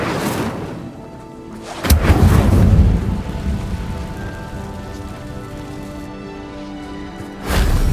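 An Incendio fire spell in Hogwarts Legacy lets out a sudden whooshing burst with a low rumble, then a crackling roar that fades into a steady hiss before a second blast starts at the end.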